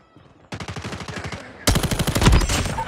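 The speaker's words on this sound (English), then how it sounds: "Sentry gun deployed." Video game sentry gun in a team deathmatch fires rapid, evenly spaced bursts up close, starting moderately loud and then growing much louder and denser as the fire continues.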